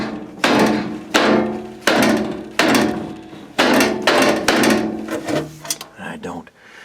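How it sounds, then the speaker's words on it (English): A furnace fan shroud's bottom panel being popped off, giving a series of loud, close metallic knocks and clunks in an uneven rhythm, about seven hits, then a few lighter rattles. "I'm going to pop the bottom of the shroud"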